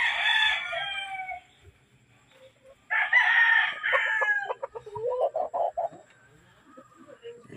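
Super Brown Red chickens cluck steadily while a rooster crows twice, with a strained crow and then several short clucks that follow in quick, uneven bursts, loud and close with no talk.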